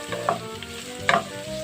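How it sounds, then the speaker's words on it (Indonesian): Sliced leeks sauté in a pan for rawon, an East Java beef soup, giving a soft steady sizzle with a few brief stirring scrapes, close and fairly quiet. "ini bawang prei-nya yang sudah kita rajang, kita tumis hingga baunya harum ya pemirsa"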